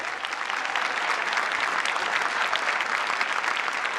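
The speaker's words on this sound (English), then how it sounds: "Please a warm welcome and applause for our platform party." Audience at a 2019 graduation recognition ceremony applauds the platform party, a dense, even wash of many hands clapping at once, sustained and fairly loud throughout without a break.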